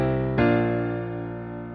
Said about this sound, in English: we just have this simple piano melody that we talked about in the last one